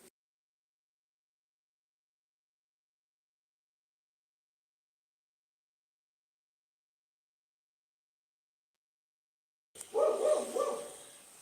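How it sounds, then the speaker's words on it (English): A dog barks outdoors in a short burst of several barks near the end, following a long stretch of near silence. "the dog is barking right out there"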